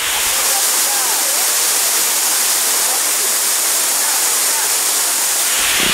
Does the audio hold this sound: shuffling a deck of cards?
no